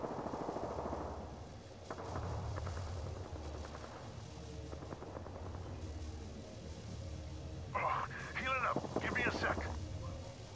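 Rapid bursts of automatic gunfire from the video game Apex Legends, crackling in clusters mixed with game effects, partly under a voice speaking.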